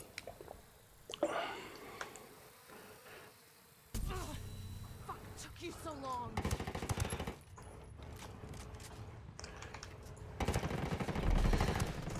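Gunfire in a Ghost Recon Wildlands 4v4 PvP match, with bursts of automatic shots and impacts coming in clustered volleys amid game noise, and a voice talking over parts of it.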